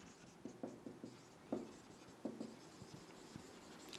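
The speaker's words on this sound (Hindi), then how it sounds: "तो यही लिखेंगे" Marker or chalk writing on a classroom board during a chemistry lesson: soft irregular taps and short scratchy strokes, quiet against a faint room background, with no talking.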